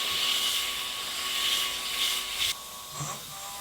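A wood lathe spinning an elm lidded box gives a steady whirring hum with a bright high hiss on top, which drops away abruptly partway through, leaving a quieter tonal whine.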